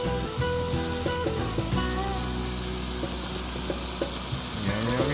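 Food fries in a pan, a close, steady crackling sizzle with scattered pops and light clinks of cookware throughout.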